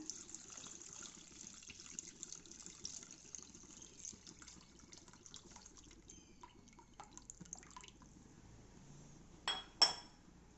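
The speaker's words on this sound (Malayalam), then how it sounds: "പുളി ഞാൻ ഇവിടെ വെള്ളം ഇതിനകത്തൊഴിക്കുവാണ്" A thin trickle of tamarind water pours steadily into a pot, with faint clinks of glass near the end and two sharper knocks.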